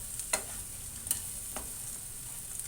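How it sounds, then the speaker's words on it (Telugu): Boondi fries in oil with spices, making a faint, soft sizzle with a few light scraping stirs of a spoon against the pan. There is no speech. "బూందీని ఆయిల్ అది కలిసేటట్లు వేపుకోవాలి."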